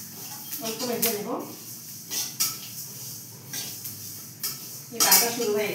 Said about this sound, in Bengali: এই ভাজা শুরু হয়ে গেছে, দেখেন মচমচ করছে